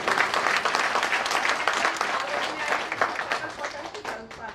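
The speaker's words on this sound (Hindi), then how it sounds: "ताली तो होना ही चाहिए जोरदार।" An audience at an event claps and applauds loudly and continuously for several seconds, tapering slightly toward the end.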